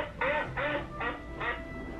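Duck quacks from a communication software game for speech practice ring out as four evenly spaced, fairly loud calls with short gaps between them.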